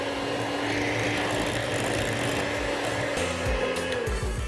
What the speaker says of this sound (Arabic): بيضة التالتة ومعاها الفانيليا، ونضرب بقى لما تديني ايه القوام الكريمي